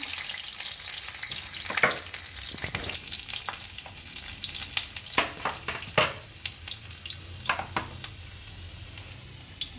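Garlic and onion frying in smoking-hot sunflower oil, a steady crackling sizzle with sharper bursts and stirring scrapes throughout, close and fairly quiet with no talk.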